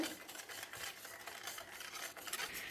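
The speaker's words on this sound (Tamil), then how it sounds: "இப்போ என் பையன் தான் மிக்ஸ் பண்ணிகிட்ருக்காரு" A chocolate ice-cream mixture being stirred to work out the lumps, a steady soft scraping and swishing that runs close and continuous without any voices.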